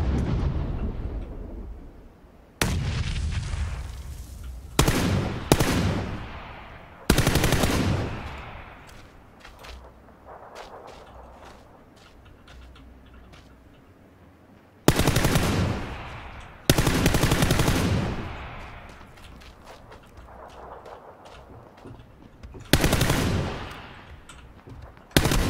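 Gunfire in PlayerUnknown's Battlegrounds comes in loud, sharp bursts of automatic fire and single shots, each followed by a decaying echo, with quieter gaps between them.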